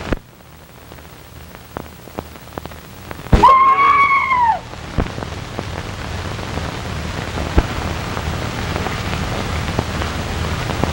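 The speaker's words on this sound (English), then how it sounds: "Who screamed?" A person screams once in a burst of wavering, piercing cry, loud and alone over a steady rain-like hiss of old film noise, set at a house with a pool in a 1933 drama.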